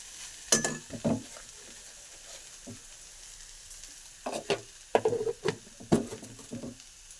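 Drumstick leaves and fresh grated coconut frying in a pan, with scattered bursts of sizzling and stirring scrapes separated by quieter gaps, close and moderately loud.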